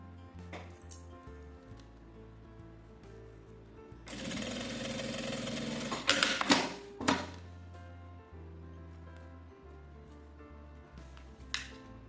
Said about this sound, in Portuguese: E agora eu faço uma costura aqui na parte de baixo.